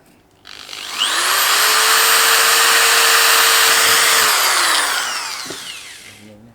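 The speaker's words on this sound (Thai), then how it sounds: "เจาะไปเลยนะครับ เจาะ" A power drill whines up to full speed, holds a steady high-pitched buzz for several seconds, then winds down and stops.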